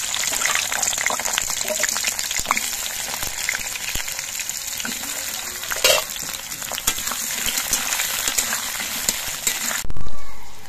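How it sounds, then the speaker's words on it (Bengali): Potatoes fry in hot mustard oil in a wok, giving a steady, close hiss of sizzling with occasional scrapes and stirring bumps throughout, with a brief louder stir near the end. "কড়াইয়ে সর্ষের তেলটা গরম হয়ে যাওয়ার পর এর মধ্যে আলুগুলো ভেজে নিচ্ছি"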